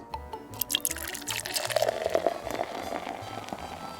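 Syrup is poured over a homemade sausage, egg and cheese breakfast sandwich, giving a soft, close, continuous liquid pour with faint drips and a few light clinks.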